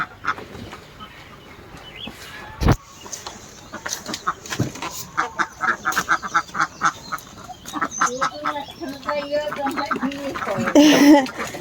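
Farm ducks quack in a rapid, repeated series nearby, growing louder toward the end, with people talking over them.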